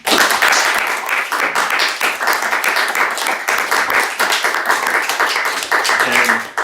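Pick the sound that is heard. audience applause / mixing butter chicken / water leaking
audience applause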